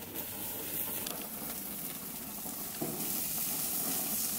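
Wahoo fish fillet sizzling on a very hot grill, a dense, steady hiss and crackle close up that swells slightly louder toward the end.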